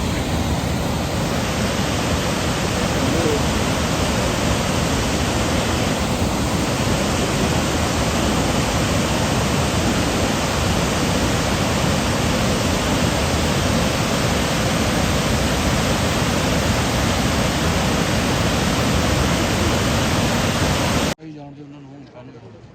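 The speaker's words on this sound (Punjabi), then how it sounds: "ਦੇਖੋ ਇਹ ਝਰਨਾ" A mountain waterfall on the trek from Gobind Dham toward Hemkund Sahib roars as steady, loud broadband rushing water for about twenty-one seconds, in light drizzle, before cutting off abruptly.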